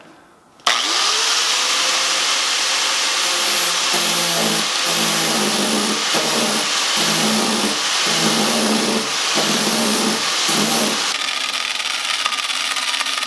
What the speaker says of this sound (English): So now it's gotten serious where I've got the flap disc out.